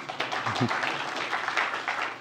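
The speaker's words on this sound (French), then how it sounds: "Je propose qu'on applaudisse" Conference audience at a tech talk breaks into applause, a diffuse wash of clapping at moderate level with a short voice briefly near the start.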